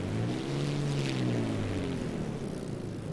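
A P-51A Reno race plane engine in a flight simulator idles with a steady, droning rumble. The pitch sags slightly over a few seconds, heard alone at moderate loudness.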